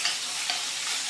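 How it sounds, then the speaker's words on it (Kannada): Okra frying in a pan, a steady broadband sizzle for about a second, close and fairly soft, with no voices. "ಈಗ ಬೆಂಡೆಕಾಯಿ ಎಲ್ಲ ಫ್ರೈ ಆಯ್ತಲ್ವ"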